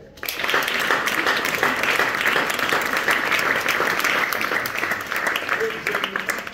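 A church congregation claps steadily and loudly in acclamation of the Lord during a blessing prayer, dense continuous applause with voices speaking over it.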